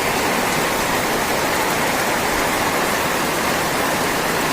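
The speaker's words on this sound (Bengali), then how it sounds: "কি পরিমাণে বৃষ্টি হচ্ছে দেখতে পাচ্ছ সবাই" Torrential rain falls outside a home with flooded ground, a constant dense roar of drops heard up close and alone, without speech.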